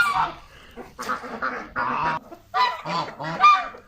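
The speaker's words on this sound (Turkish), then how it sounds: "Şu iki dişi bir erkek kazım var. Çin kazı." Loud, close honking from a few Chinese geese, two females and a male, repeated bursts of harsh calls with short pauses between them.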